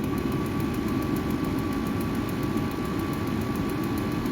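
A Ryobi forced air heater runs steadily after being switched on, giving a constant, fairly quiet fan-and-motor hum with no breaks or voices.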